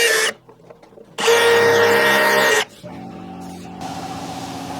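A power drill bores a 6mm pilot hole in a Suzuki DA63T kei truck body, whirring in short bursts, with a loud high-pitched run in the middle followed by a steadier lower grinding hum.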